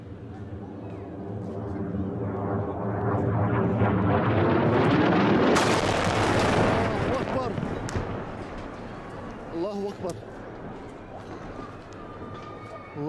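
Barrel bombs dropped by a helicopter explode over the Tariq al-Sadd neighbourhoods of Daraa, a long swelling roar that peaks and slowly fades, with people shouting over it.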